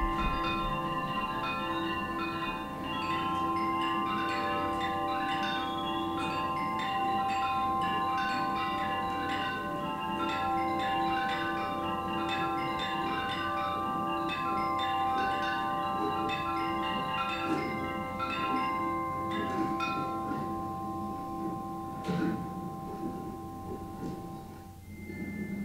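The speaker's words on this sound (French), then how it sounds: "Ça, c'est un carillon tubulaire qui s'installe un petit peu n'importe où." Tubular chime sound installation ringing continuously, many overlapping metallic tones and sustained resonances layered into a dense shimmering wash that lasts throughout, with no speech.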